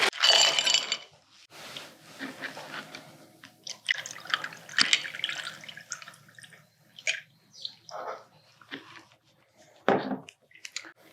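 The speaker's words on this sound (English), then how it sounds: "And then we are going to just pour it over ice." A mocktail drink poured over ice in a glass: liquid splashes and trickles in several bursts with clinks and cracks of ice, close and clear, separated by short quiet gaps.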